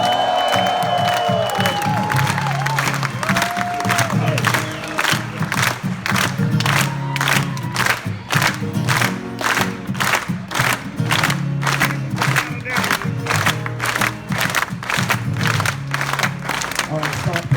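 Concert crowd in Sacramento clapping hands in a steady rhythm with a loud folk-rock singalong, dense and continuous with cheering and voices throughout.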